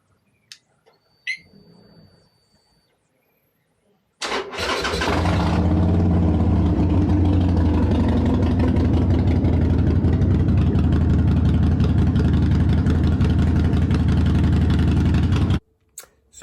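A Harley motorcycle engine cranks and fires after a few faint clicks, then settles into a loud, deep, steady idle rumble close by for about ten seconds before cutting off abruptly.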